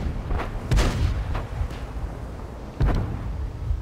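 A Pz 58 Mutz tank gun fires in a video game, giving a few heavy booming shots with deep low rumble that sit over a steady background drone.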